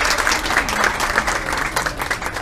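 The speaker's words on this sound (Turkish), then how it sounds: "Büyük alkışlarla sahneye Damla geliyor." An audience at a fan meetup in İzmir applauds as a guest walks onto the stage, a dense, steady round of clapping with no voices over it.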